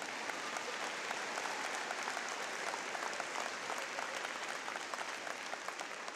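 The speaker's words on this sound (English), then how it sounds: "you can clap for that, that's okay" Steady, dense applause from the audience at a university spring commencement, many hands clapping continuously at an even, moderate level throughout.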